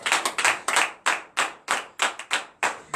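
A church congregation claps rhythmically during morning prayer, loud and steady at a brisk, even pace with no talking.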